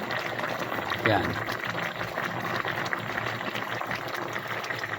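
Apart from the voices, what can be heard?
coconut milk with tilapia and pechay simmering in a pot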